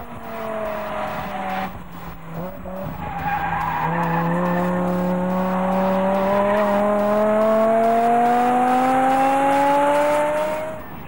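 A BMW M6 with a V10 engine screams close to its redline in a long, rising howl as the car drifts, tires squealing continuously, with a brief lower engine note and braking before the sustained drift.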